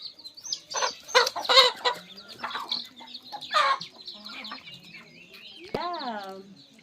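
Chickens cluck in a hill village near Maredumilli: a busy run of close, overlapping clucks and squawks, easing off before a single louder rising call near the end.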